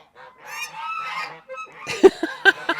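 A flock of geese honks loudly at close range, a drawn-out chorus of overlapping calls followed by several sharp, punchy honks in quick succession.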